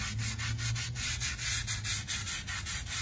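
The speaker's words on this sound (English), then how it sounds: "So I am gonna start scrubbing." Stiff brush scrubbing lichen off a stone gravestone at a cemetery, loud rhythmic back-and-forth rasping strokes repeated steadily and close up, with no talking.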